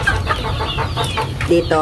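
Pet asil chickens cluck repeatedly up close in quick, uneven bursts, with a low murmur of background noise beneath.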